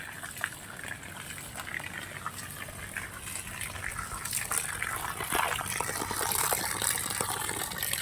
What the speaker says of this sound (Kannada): ನೋಡಿ ಕಂಟಿನ್ಯೂಸ್ ಆಗಿ ನೀರು ಬೀಳ್ತಾನೆ ಇರುತ್ತೆ ಸ್ವಲ್ಪ ಕೂಡ ಗ್ಯಾಪ್ ಆಗೋದಿಲ್ಲ